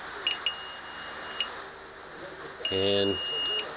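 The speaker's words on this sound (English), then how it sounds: "I did purchase a micro low voltage alarm" A loud, piercing electronic buzzer from a micro low-voltage alarm on a Blade 200 QX drone sounds in two sustained bursts of about a second each, after a short blip, with quiet gaps between.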